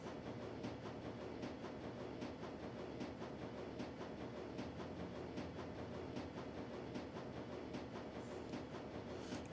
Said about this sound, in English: Gradually, the train begins to slow.